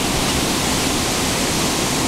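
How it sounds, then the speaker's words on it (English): A paddle wheel steamboat on the Mississippi churns and throws spray at night, heard as a dense, steady rushing hiss of falling water, close and continuous. "Notice the spray from that wheel."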